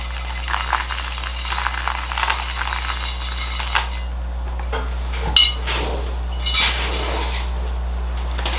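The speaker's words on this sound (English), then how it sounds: "If I mix it up with some sphagnum moss, just get little pieces of sphagnum moss in there" Medium bonsai soil being mixed by hand with small pieces of sphagnum moss while repotting a willow: a steady gritty rattle and clinking of granules, with a few louder knocks near the end.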